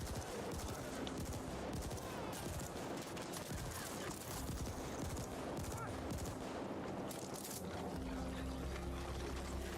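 Dense, continuous video game gunfire with rapid shots and bursts throughout, loud and busy, mixed with game sounds and occasional talk.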